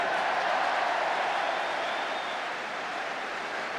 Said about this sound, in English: Applause from the crowd.